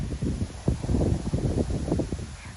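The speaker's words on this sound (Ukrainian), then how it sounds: "Дуже сильний вітер." Strong wind buffets the microphone in low, rumbling gusts, with a faint rustle underneath and no voices.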